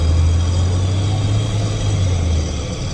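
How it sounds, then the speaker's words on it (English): A loud truck engine idles steadily nearby with a deep low rumble, a constant drone that continues throughout with no speech. "I'm so sorry for having to hear my loud ass truck"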